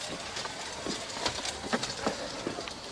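Model train running on an outdoor garden railway track, with faint irregular rail clicks over a steady low rumble, close by and with no speech.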